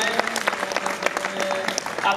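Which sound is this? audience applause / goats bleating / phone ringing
audience applause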